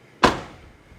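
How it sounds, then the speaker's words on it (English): The car door of a 1996 Chevrolet Impala SS shuts with a single solid, close thunk that fades quickly. "Look how well the door shuts."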